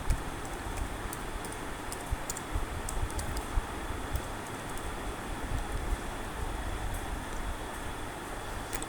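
A business name is typed on a computer keyboard as faint, scattered key clicks over a steady, hissing background noise.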